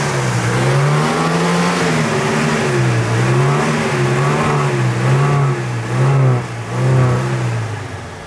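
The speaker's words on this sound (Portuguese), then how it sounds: "Escutando o motorzão, galera?" A turbocharged car engine revs close by, its pitch rising and falling in repeated surges, loud and continuous with a few deeper dips toward the end.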